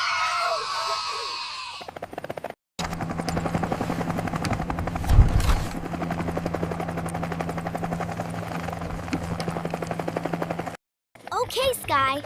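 A cartoon helicopter flies in a lesson scene, its rotor a loud steady rapid chopping drone that runs for most of the clip, with a short burst of voices before it starts and again after it stops.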